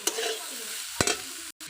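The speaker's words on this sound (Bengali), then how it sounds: "এইবার একটু নাড়াচাড়া করলাম" Cabbage and mixed vegetables sizzle in a frying pan while being stirred, with two sharp scraping stirs over a steady hiss that cuts off briefly near the end.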